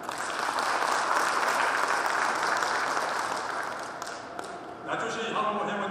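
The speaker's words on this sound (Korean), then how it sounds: "박수 한번 부탁드립니다" A crowd claps steadily and loudly at a hometown association's presidential inauguration ceremony, the dense applause holding for about five seconds before thinning as a voice comes in near the end.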